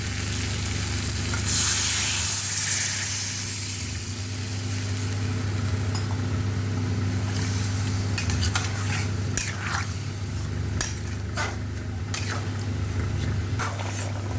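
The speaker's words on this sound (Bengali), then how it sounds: "এখন আমি ভালো করে কষিয়ে নেব আলু আর মটরশুঁটিটাকে।" Potatoes and green peas sizzle steadily as they fry in a pan for a vegetable curry, with a continuous crackle and occasional clinks and stirring scrapes close by.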